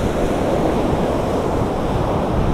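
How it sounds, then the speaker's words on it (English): Strong wind buffets the microphone while surf crashes and washes continuously along a sunny, very windy North Lincolnshire beach near Ingoldmells, a loud, unbroken roar with no voices. "a rather sunny but very windy North Lincolnshire coast."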